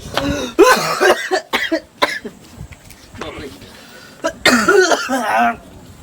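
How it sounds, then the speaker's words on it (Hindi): A man coughs several times in harsh, throaty bursts, some clustered together, with spoken words mixed in between the fits. "खांसी भी होने लगा"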